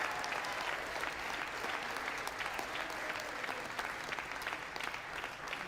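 An audience at the State of the Union address applauds the president, a dense, sustained roar of clapping from a large chamber crowd, loud and continuous throughout.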